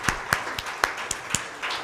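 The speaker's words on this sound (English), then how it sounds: "Let's welcome them with a warm round of applause." A scattered round of applause from an audience at a book event in Hyderabad greets guests called onto the stage. Only a handful of sharp, separate claps ring out in a loose, uneven rhythm.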